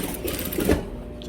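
A sewing machine stitching the hem of a pair of jeans, a short, fairly quiet burst of rapid mechanical clatter.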